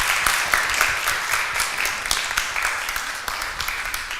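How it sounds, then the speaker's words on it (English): Sustained audience clapping for a speaker after a talk, a dense, even roll of many hands filling the room, fading slightly toward the end. "let's get another round of applause for our wonderful speaker"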